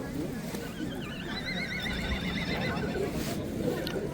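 A horse whinnies at the Taraz horse market in Kazakhstan, one long wavering neigh carrying over a busy outdoor crowd, with voices chattering all around.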